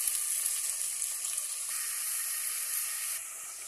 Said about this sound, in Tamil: ஒரே ஒரு பச்சை மிளகாயை துண்டு பண்ணி போடலாங்க. இதை நல்லா நம்ம வெங்காயம் சேர்க்கிற வரைக்கும் நல்லா வந்து வதக்கலாம்.